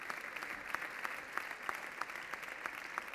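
Sports gala crowd applauding at an awards presentation, a dense, even patter of many hands with a few crisp claps standing out, fairly faint and distant, with no voices over it.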